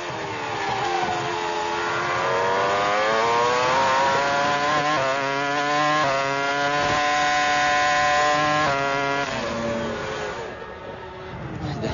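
Formula 1 cars at the 2003 British Grand Prix in racing action, with Ralf Schumacher and Mark Webber fighting for position, their engines screaming loudly and continuously, pitch sweeping up and down with gear changes across the full span.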